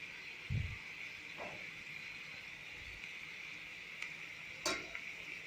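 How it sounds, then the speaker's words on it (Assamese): A spoon stirs fish curry simmering uncovered in a pot, giving a few soft scrapes and knocks over a steady bubbling hiss, close and fairly quiet. "দেখিছে, আকৌ এবাৰ লৰাই দিছোঁ।"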